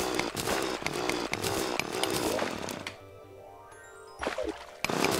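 A loud, harsh whirring drill in Terraria grinds steadily, then cuts out to a quieter hum before a short burst of noise returns.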